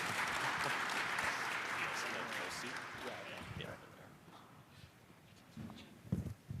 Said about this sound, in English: So let's give a round of applause for Mike and Roger joining me on stage right now.